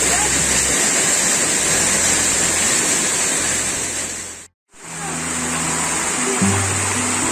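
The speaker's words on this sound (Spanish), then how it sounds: "encontramos una cascada." Paredones waterfall on El Salado creek in Jipiro Alto, Loja, Ecuador, roars as a steady broadband rush of falling water, close and loud, with a brief cut near the middle and faint low voices underneath.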